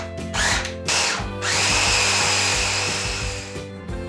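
A blender whirs in short pulsed bursts and then a longer run as it purées langoustine and prawn with oyster sauce, sugar, salt and pepper, the motor loud and close.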